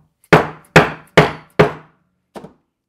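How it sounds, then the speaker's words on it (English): A dead blow mallet filled with lead beads whacks a leather handbag strap four times in steady rhythm, each blow a sharp close thud with quick decay, then a fifth lighter tap after a pause. "I'm just going to give it a couple of good whacks here."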